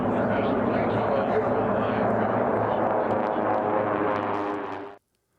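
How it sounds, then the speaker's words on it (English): T6 class propeller planes racing at the Reno air races produce a loud, steady, droning engine roar that holds for several seconds and then cuts off abruptly. "The T6 class planes fly a 5-mile course at speeds of 230 miles an hour."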